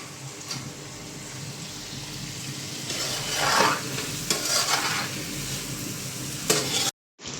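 Vegetables being stirred into masala for a large pot of Chennai-style vegetable biryani: continuous wet sizzling and sloshing scrapes swell in the middle, with a few louder clatters, then the sound cuts out abruptly near the end; no one speaks.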